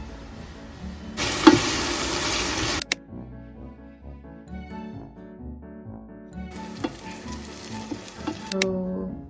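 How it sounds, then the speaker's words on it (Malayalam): Steady hissing sizzle of chicken frying in a hot pan, loud bursts of crackle at the start and near the end, quieter bubbling in between. "now let's fry the chicken"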